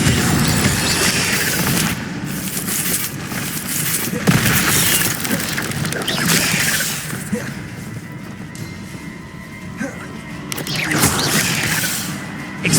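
In Hogwarts Legacy, repeated casting of the Incendio fire spell roars and booms loudly amid dense, continuous combat noise, with heavy bursts and crashes layered throughout.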